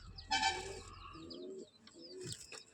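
Giribaz pigeons call with a few soft, close coos and chirps, one louder burst near the start, no talking.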